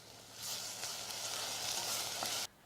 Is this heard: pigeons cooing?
no